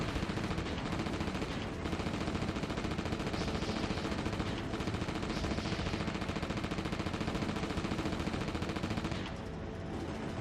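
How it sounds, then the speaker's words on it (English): Rapid continuous machine-gun fire in the PS2 game Reign of Fire, a dense unbroken rattle of shots at steady volume for most of the stretch before cutting off near the end, with no talking. "That's a lot of bullets."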